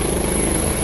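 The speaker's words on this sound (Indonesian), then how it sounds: "Ini sepertinya helikopter dari Polri ya, Kepolisian Republik Indonesia, yang singgah di sebelah dari" Indonesian National Police helicopter at a helipad beside a rest area in the new capital Nusantara, a steady loud rotor and engine drone filling the short stretch without pause.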